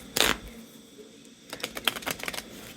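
Tarot cards shuffled by hand, a short crisp riffle followed after a pause by a longer run of quick, dry flicking and tapping bursts, close and fairly loud, with no voices.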